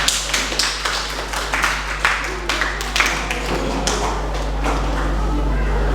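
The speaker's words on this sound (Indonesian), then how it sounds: "Kita beri tepuk tangan terlebih dahulu." Scattered hand claps from a classroom audience, sharp separate taps at an uneven pace that fade into a quieter, continuous patter toward the end, over a low steady hum.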